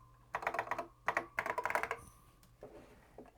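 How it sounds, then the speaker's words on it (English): Rapid bursts of keystrokes as a short sentence is typed on a Macintosh 128K keyboard: close, crisp clicks in quick runs broken by a brief pause, then a few softer taps. "let's see how fast this 128K of RAM starts to fill up when we type a short sentence"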